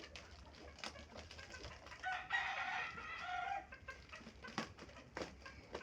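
Chickens cluck faintly and a rooster crows once, loud and clear, over a quiet background with sporadic sharp clucks.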